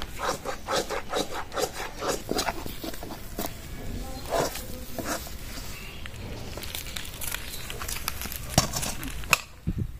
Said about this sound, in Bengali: বেসনটা ভালো করে নাড়তে হবে, নয়তো লেগে যাওয়ার ভয় থাকে আর পুড়েও যায় নিচ থেকে।